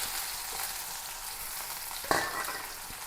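Steady frying sizzle from hot oil throughout, with a brief clatter and a louder hiss burst partway through as onion, garlic and green chillies hit the pan.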